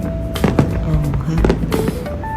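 Diwali fireworks pop and crackle outdoors at Al Seef Heritage in Dubai, sharp bangs coming in irregular bursts over a busy crowd murmur, with people talking nearby.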